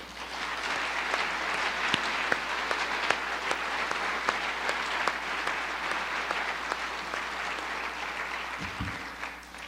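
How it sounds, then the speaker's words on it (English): Sustained applause from a crowd at a 2019 State of the City address, steady clapping throughout with no talking, fairly even in loudness from start to finish. "I would like to just take a moment and give them a round of applause and thank them."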